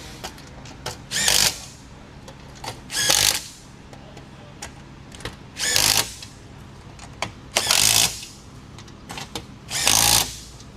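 A power drill driving screws into a metal top on a Polaris Ranger 1000 Northstar, five loud close bursts of whirring spaced a couple of seconds apart, with quiet handling noise in between.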